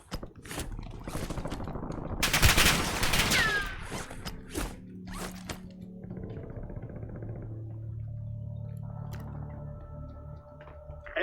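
Gunfire in the Call of Duty Warzone video game on Rebirth Island: a loud burst of rapid shots near the start, then scattered single pops, with game sounds and a steady hum carrying on afterward.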